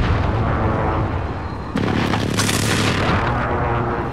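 Airstrike explosions in Call of Duty: Modern Warfare land as a sudden heavy boom that breaks over a rumbling battlefield, followed by sustained roaring blasts and debris, loud and close.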